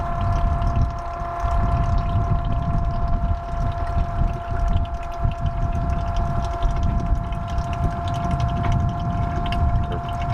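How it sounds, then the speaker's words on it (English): A two-way hand pump drawing used oil out of a boat engine, giving a steady, continuous mechanical whir with a low rumble throughout, close and fairly loud, with no voices. "We're just pumping the oil. This is a two-way pump."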